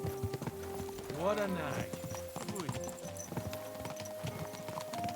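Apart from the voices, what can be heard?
horse hooves clip-clopping in the video game Kingdom Come: Deliverance II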